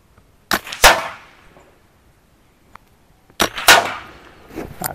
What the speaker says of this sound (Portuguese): Vou fazer um tiro de referência lá no meio da placa.